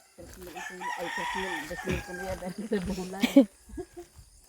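Chickens cluck and call in a busy burst lasting several seconds, fairly close, with a few sharper squawks near the end before it quiets, in rural Leyte, Philippines.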